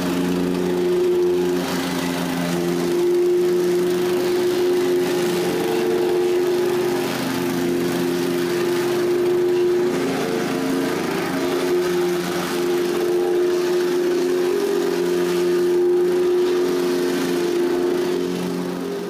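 A Honda 5.5 horsepower engine on a plate compactor runs steadily at a constant idle-to-working drone, loud and close with a rough, pulsing low hum and no speech throughout.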